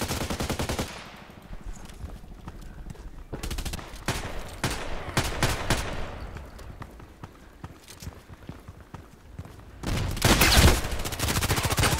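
Shotgun blasts from an MP133 in the shooter game Contract Wars, a string of sharp, loud reports spaced a second or so apart, with a heavier cluster of shots near the end.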